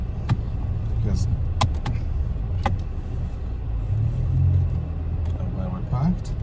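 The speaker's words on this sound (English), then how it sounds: "First thing I've got to do is reverse up this line of cars a minute" A 2011 Vauxhall Insignia 2.0 CDTI 160 SRi automatic reversing on a warm day, its diesel engine giving a steady low rumble heard from inside the car, with a few clicks and knocks and a voice briefly over it.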